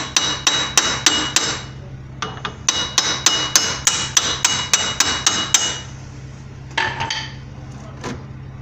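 Hammer blows on the front axle of a 2000 Dodge Durango during a wheel hub replacement, a rapid run of sharp metallic strikes, a short pause, another fast series, then a few scattered hits, close and ringing.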